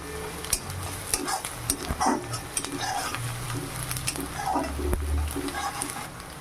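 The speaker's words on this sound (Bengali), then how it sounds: "এবার পেঁয়াজগুলোকে একটু হালকা ভেজে নেব" Chopped onions and slit green chillies fry lightly in a pan, a moderate sizzle with irregular scraping and tapping of a spoon against the pan and a low hum underneath, with no speech.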